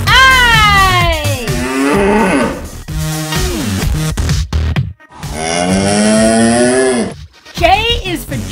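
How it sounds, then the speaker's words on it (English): Jersey cow lowing loudly several times in a row, long drawn-out moos with falling pitch, close and clear, with a short break between calls. "J is for Jersey cow. Jersey cow."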